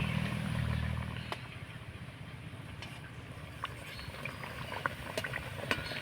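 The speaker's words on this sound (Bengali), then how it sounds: "এইভাবে করে নাড়াচাড়া করে মিডিয়াম আঁচে ভেজে নেব।" Ripe palm fruit batter deep-frying in oil over medium heat while being stirred: faint, continuous bubbling with a few light clinks of the utensil, no talk.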